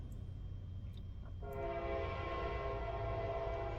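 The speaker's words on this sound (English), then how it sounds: "listen for the freaking train coming by" A train passes close by with its horn sounding in long sustained tones, over a steady heavy rumble of rail cars.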